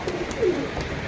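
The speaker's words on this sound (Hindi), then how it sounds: "इतने कबूतर हमारे अभी फ़िलहाल में नीचे आ चुके हैं" A pigeon's soft, low coo sounds once nearby, brief and fairly quiet against faint background noise.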